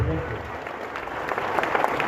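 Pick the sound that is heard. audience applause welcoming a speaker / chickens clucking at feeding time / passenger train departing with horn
audience applause welcoming a speaker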